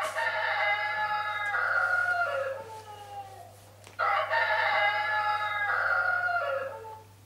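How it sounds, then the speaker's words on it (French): A rooster crows loudly and close by, twice in succession: two long, strained cock-a-doodle-doo calls separated by a brief pause over a faint steady hum. "C'est le chant du coq."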